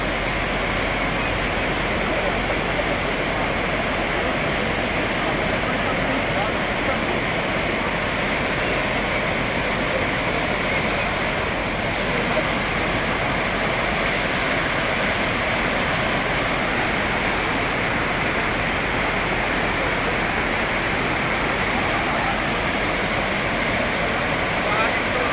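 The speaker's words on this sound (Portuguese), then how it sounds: "Entrada da cachoeira." Water rushes over a waterfall entrance during rain in Mutuípe, Bahia, as a loud, unbroken roar that holds steady from start to end.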